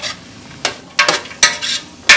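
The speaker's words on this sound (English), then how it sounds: "We're just gonna sweat this down in the olive oil just till the onions turn translucent" Onions sizzle in olive oil in a soup pot while a spoon stirs them, giving a steady low fry broken by several scraping, clattering strokes against the pot.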